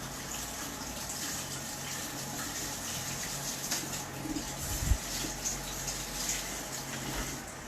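A small flat paintbrush being rinsed in water, giving a steady close wash of trickling and swishing with a brief louder splash midway, no voices.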